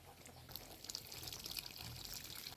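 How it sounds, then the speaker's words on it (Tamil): Tamarind extract poured into a pot of pumpkin sambar, a steady liquid pour with light splashing and trickling, close and moderately loud, with no talk over it. "கொஞ்சமாக வந்து புளிக்கரைசல் சேர்த்துக்கலாம்"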